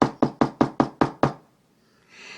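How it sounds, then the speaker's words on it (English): Seven firm knocks on a door land in a quick, even rhythm, close and loud, followed by a short silence and faint background noise. "he knocked on the door"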